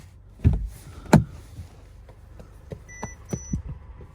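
Two sharp door thuds of a 2020 Mercedes-Benz GLC are followed by a few short, quiet electronic warning beeps and light clicks in an otherwise quiet space.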